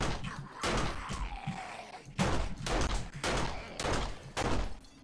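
Gunfire in 7 Days to Die Alpha 16, a series of loud, sharp shots spaced about half a second apart, with a faint voice in between.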